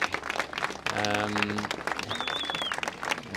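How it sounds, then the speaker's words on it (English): A dockside crowd applauds the arriving LawConnect yacht crew after the Sydney Hobart Yacht Race, a dense burst of clapping mixed with a voice talking nearby. "And round of applause."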